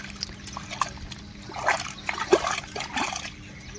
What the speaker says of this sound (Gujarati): કપાસમાં જો આ નાનજીભાઈ પાણી કાઢે છે.